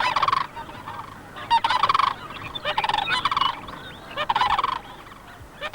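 Snow geese fighting cranes give loud, harsh honking calls in repeated bursts, with several birds calling over one another and brief pauses between the flurries.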